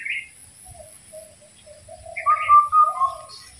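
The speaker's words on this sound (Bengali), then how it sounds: "কত সুন্দর পাখি রাখতেছে" A few clear bird whistles and calls ring out against a quiet outdoor background, growing louder toward the end.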